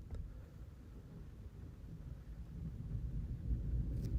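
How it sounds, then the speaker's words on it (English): Distant thunder rolls as a low, muffled rumble during an outdoor storm, swelling slightly toward the end under steady wind noise, with no voices. "You can hear probably thunder in the background"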